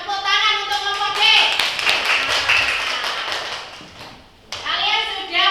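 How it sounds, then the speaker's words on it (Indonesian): A class of children clapping for a student group, a dense burst of hand claps spread over a few seconds, mixed with children's voices and an adult talking before and after. "Tepuk tangan untuk kelompok B."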